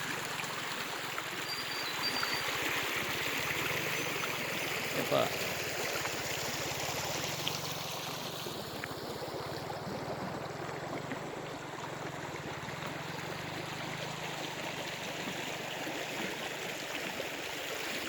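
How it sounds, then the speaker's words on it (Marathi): A river beside farm fields flows steadily in a gentle, continuous rush, fairly soft and even, with no one speaking. "एवढं पाणी वाहत आहे अजूनही"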